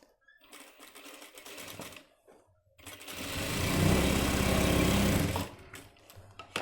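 A sewing machine stitches a trouser back pocket, starting with short bursts, then a sustained fast whirring run of needle clatter that stops abruptly.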